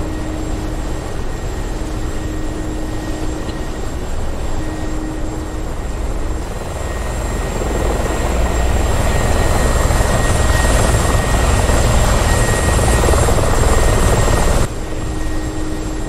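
Mi-24 Hind attack helicopter flying in the DCS combat flight simulator, a loud, steady rotor and turbine drone that holds throughout and swells a little louder toward the end, with no talk over it.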